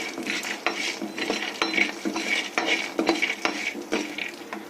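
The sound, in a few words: frying urad dal, cumin and peanuts in a pan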